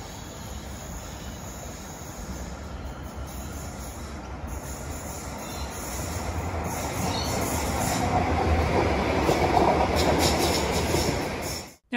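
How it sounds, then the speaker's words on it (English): An Alstom Citadis tram on Sydney's Dulwich Hill light rail line rolls past on rails, rumbling and squealing as it approaches and grows louder, then fades abruptly at the end. "This next tram has just left the John Street Square stop."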